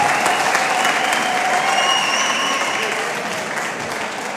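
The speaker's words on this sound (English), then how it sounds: "Give him a big round of applause." Crowd applause and cheering fill an arena at a fight event, a loud dense roar of clapping that holds steady and fades slightly toward the end, with faint whistles riding over it.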